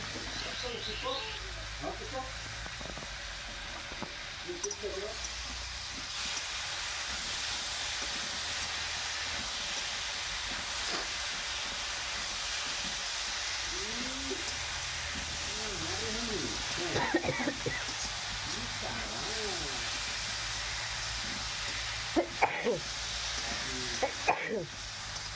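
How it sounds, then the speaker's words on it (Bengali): Vegetables hiss and sizzle steadily in a hot pan as they are stirred and fried, a soft continuous crackle with occasional scraping clicks, under intermittent talk. "এখন সবজিটাকে খুব ভালো করে নেড়ে চেড়ে নেব।"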